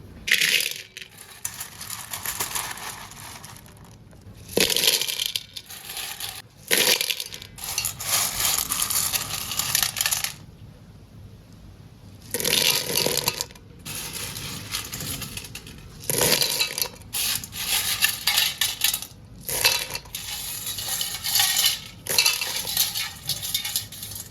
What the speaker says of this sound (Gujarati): તો પહેલાં તો આપણે ડોઈચુંને તપેલામાં નાખી દેવાની છે